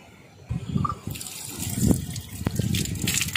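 Water splashes and pours irregularly while a freshly harvested turmeric plant from a home garden is washed, close by and moderately loud with a few sharp splashes.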